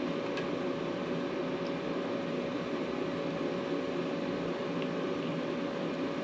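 A big space heater runs steadily in a workshop during chair restoration, giving a constant faint fan-like hum and hiss with no other sounds.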